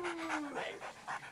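Dog panting in rapid rhythmic breaths, close and fairly quiet, in a short burst under a voice speaking Spanish in a romantic comedy film.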